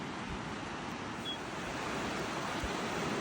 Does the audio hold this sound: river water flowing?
yes